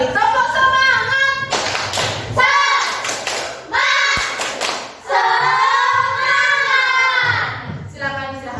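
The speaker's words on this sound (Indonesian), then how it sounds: "Sebelum istirahat, kita tepuk semangat dulu biar pikiran kita fresh kembali." Group of people doing the rhythmic 'tepuk semangat' spirit clap in a classroom, with sharp bursts of patterned claps alternating with a leader's voice chanting between them.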